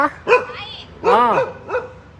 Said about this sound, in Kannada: ಆ ಆಟೋ, ಅಲ್ಲಿ ಒಳಗಡೆ ಒಂದು ನಾಯಿನೂ ಐತೆ ಅಲ್ಲಿ.